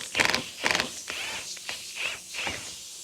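An impact wrench driving a KW V3 coilover strut on a Nissan Z in a garage, with several short bursts of rapid hammering rattle and some mechanical creaks between them, close and with no talk.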